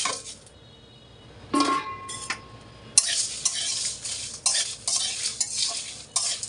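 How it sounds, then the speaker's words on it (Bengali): Whole spices fry on low heat in a pan, with a soft sizzle under sharp scraping strokes of a spoon stirring them, the scrapes coming in quick bursts, close and fairly loud. "অল্প আঁচ দিয়ে একটু সময় নিয়ে ভেজে নেব।"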